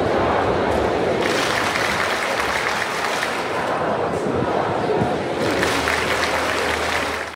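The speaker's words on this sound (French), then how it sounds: "la foule a scandé des slogans antifascistes" A large protest crowd at Châtelet in Paris chanting antifascist slogans, a dense continuous roar of many voices with claps, steady and loud throughout.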